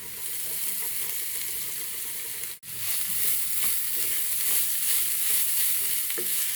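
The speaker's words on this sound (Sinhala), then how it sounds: "දැන් මේ විදිහට පොල් ටික හොඳට මලව ගන්න ඕන." Grated coconut with garlic and chili is stir-fried in a pan, a loud continuous close sizzle with scraping stirring strokes, broken by one brief dip.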